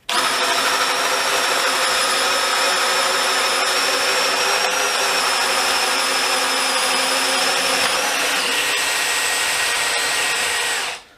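A DEWALT DCD701 brushless 12V drill driver in second gear, fitted with a 22mm DEWALT bit, bores into decking with a loud, steady, strained motor whine that runs unbroken for about eleven seconds before cutting off.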